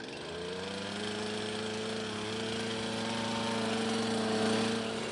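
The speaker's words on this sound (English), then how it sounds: "On Earth, the drill is diamond-tipped, water-cooled, and it runs on gasoline." Gasoline-powered, diamond-tipped, water-cooled rock drill running at a field site on volcanic rock, a loud continuous engine drone with a steady tone throughout and no talk.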